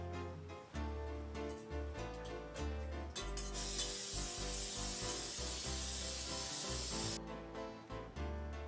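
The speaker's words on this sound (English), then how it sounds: "could you spray this please while I mix?" Cooking spray can hissing in a continuous burst of about three seconds in a kitchen while bolognese is being made, loud and close, with clattering mixing sounds before and after.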